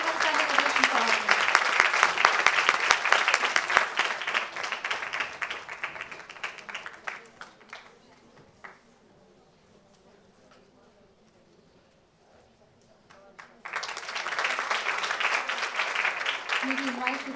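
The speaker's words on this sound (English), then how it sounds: "A huge round of applause. This is a standing ovation for her." A large audience gives a standing ovation at a classical dance festival award ceremony in Mumbai, with loud sustained clapping that fades into a quiet lull before a second strong burst of applause returns.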